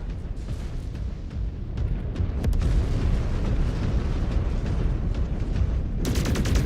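An enemy target blows up in the mech combat game MechWarrior 5: Clans, a dense, sustained rumbling roar of explosion and debris that stays loud throughout, with a sharper burst near the end.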